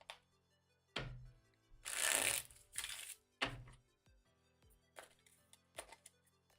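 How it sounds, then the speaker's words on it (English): A deck of tarot or oracle cards is shuffled up close, with soft riffling bursts and a few sharp taps of cards squared against a surface, quiet and with no talk. "A little shuffle."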